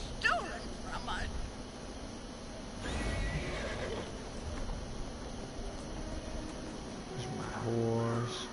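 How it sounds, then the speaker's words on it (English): A horse in a video game whinnies near the start, then hooves clip-clop under steady background noise, with a voice talking over much of it. "There's my horse. Riding on my horse."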